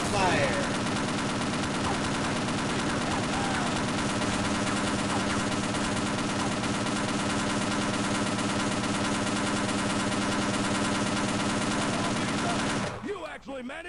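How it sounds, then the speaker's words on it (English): Loud, unbroken rapid gunfire in Half-Life: Opposing Force rattles on for several seconds, dense automatic bursts layered together, then cuts off abruptly near the end. "All I hear is gunfire."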